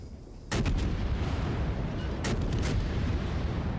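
Naval guns firing in World of Warships, a heavy boom at the start followed by another salvo of booms a couple of seconds later over a constant loud rumbling battle bed, no voices.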